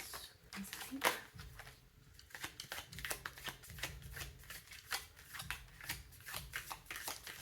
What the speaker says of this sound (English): Maybe one more shuffle.